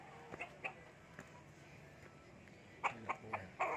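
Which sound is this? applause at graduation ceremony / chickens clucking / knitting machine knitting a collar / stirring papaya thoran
chickens clucking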